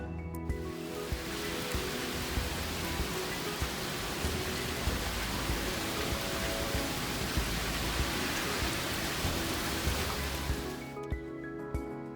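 Heavy rain downpour pouring steadily, a dense continuous hiss with scattered heavier drops, constant and fairly close, fading out at the very end with no voices.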